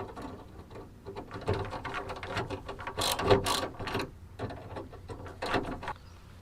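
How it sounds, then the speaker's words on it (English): Screws are tightened on a car door lock mechanism of a 2G Eclipse, giving quiet bursts of ratcheting clicks and mechanical rattles in short uneven runs. "then just tighten up the screws here"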